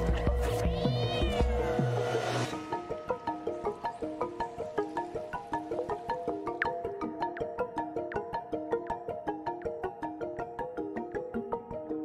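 In the video game Stray, a cat lets out a long, wavering meow over a steady plucked musical backing, followed by a rhythmic tune with no voices.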